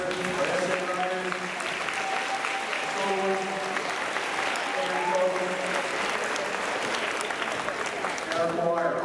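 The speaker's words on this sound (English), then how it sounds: "I'd like to also give another round of applause for our middle school poetry winners" A school assembly audience gives a round of applause for middle school poetry winners, steady and moderately loud throughout, with voices heard faintly over the clapping.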